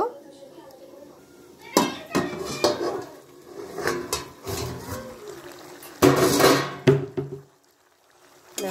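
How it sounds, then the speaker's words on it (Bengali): The metal lid of a pot of chicken curry clatters as it is lifted and set down, giving sharp metallic clinks and scrapes with faint bubbling, while someone talks over the clatter. "আমি এবার ঢাকনাটা একটুখানি খুলে দেখে নেব।"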